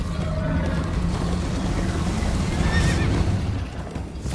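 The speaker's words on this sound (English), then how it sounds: "First time on a horse here." A horse in the Minecraft Story Mode video game neighs loudly over the steady drum of galloping hooves, close and continuous.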